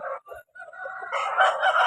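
A three-year-old aggressive fighting rooster crows close by, a short, loud, strained call broken by brief gaps and then rising into a sustained crow.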